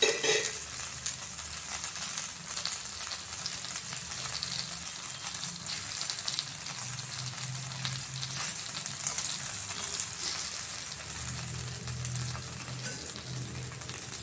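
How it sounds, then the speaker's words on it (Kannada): A rava roti with greens and vegetables roasts in oil on a pan, giving a soft continuous sizzle with faint scraping and stirring sounds, steady and fairly quiet. "ಈ ರೀತಿ ಎಣ್ಣೆ ಹಾಕಿದ್ದೀನಿ ಬೇಯಿಲಿ ಸ್ವಲ್ಪ ನನಗೆ ರೋಸ್ಟ್ ಆಗಬೇಕು"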